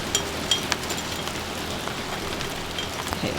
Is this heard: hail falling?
yes